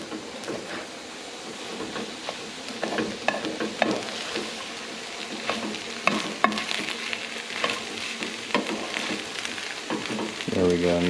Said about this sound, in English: you hear that sizzle now